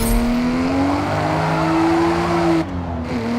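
Forza Horizon car holding a drift with sustained tire squeal over a steady, loud engine tone, the pitch rising slightly before dropping near the end.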